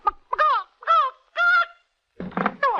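A man imitates a hen laying an egg on an old radio program, making a run of loud, drawn-out clucking squawks with short pauses between them.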